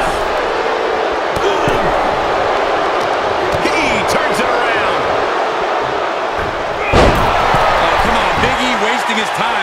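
A power slam in the WWE 2K23 tag team elimination match lands as a heavy thud about two-thirds through, over a constant roaring arena crowd and an excited commentator's voice.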